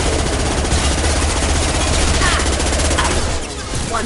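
Sustained rapid automatic gunfire in the video game Mass Effect, loud and dense, firing continuously with a brief dip near the end, with a voice speaking over it.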